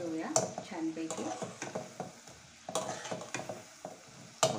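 Shankarpali pastries fry in hot oil over low gas and are stirred and flipped, steady soft sizzling broken by repeated clinks and scrapes of a utensil against the pan.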